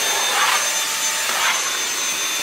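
Dyson vacuum cleaner running at home, a loud, steady whooshing roar that holds constant across the whole moment with slight surges.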